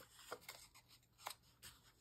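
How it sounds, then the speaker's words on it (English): Scissors snip paper ephemera for a collage, several quick soft cuts at an uneven rhythm, close and faint in a quiet room. "I also like to add some additional interest with the cuts with my scissors"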